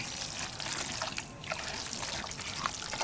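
Water is poured lightly over spiced mutton in a pan while it cooks, making a soft, continuous trickle and splash for a few seconds at low volume with no voices over it.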